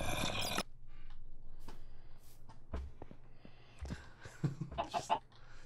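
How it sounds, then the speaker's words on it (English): A Minecraft chicken clucks in the video game, several short, quiet clucks scattered across the moment alongside sparse in-game thumps and rustles. "Chicken, what are you doing down here?"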